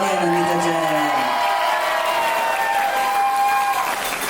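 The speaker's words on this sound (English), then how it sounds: "Everyone's cheering for you guys." Wedding guests applaud and cheer in a banquet hall, a sustained wash of clapping and crowd noise with a few whoops, while a host's voice carries over the top.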